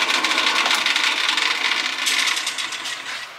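A power drill bores through the plastic intake plenum of a BMW X3, a steady high-pitched whirring grind that runs continuously and fades slightly near the end, with no talk over it.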